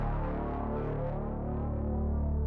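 A thick, sustained synth bass drone with echoing repeats fills a wide stereo space, steady and fairly quiet with no voices.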